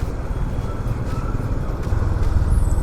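Steady road traffic rumbles across a highway bridge with a long overhanging lane on a morning drive back to Pune, a continuous low engine drone that swells slightly toward the end, with no talk.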